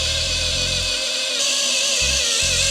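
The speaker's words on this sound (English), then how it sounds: "I'm going to drill into this epoxy to see if I can expose the power pins" A power drill bores into cured epoxy resin encasing a PC's power pins, a steady high whine with low motor bursts that stop and restart, close and loud.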